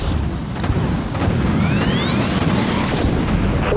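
Missile explosion tearing apart a destroyer in the Dreadnought space-combat game: a loud, sustained rumbling blast with a thin whistling streak riding over it, filling the whole clip without talk.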